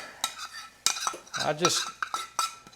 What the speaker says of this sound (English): here goes my garlic in there with a little butter